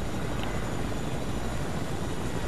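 Constant loud whirring roar of a video game helicopter's rotor and engine, dense and unbroken throughout, close by.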